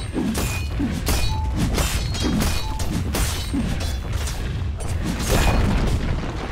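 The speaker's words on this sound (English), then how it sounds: "Dire's bottom tower has fallen" Dota 2 match audio with repeated heavy booming impacts, crashing and shattering hits over a dense, continuous battle din, steady and loud throughout, consistent with a tower being destroyed.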